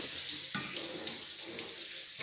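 Tap water runs steadily into a kitchen sink while a bell pepper is washed, a continuous splashing hiss with a brief louder gush partway through.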